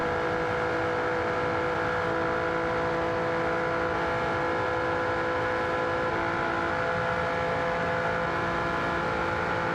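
A 1990s-style supercar, modelled in the BeamNG driving game, runs flat out at high speed, its race engine holding a steady, close, whining drone with no clear gaps.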